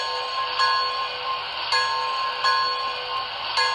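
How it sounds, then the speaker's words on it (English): An MTH Ten Wheeler model locomotive's sound system rings its bell, four bright evenly spaced strikes over a steady electronic hum, with no talking. "So now the first sound we're gonna try is the bell."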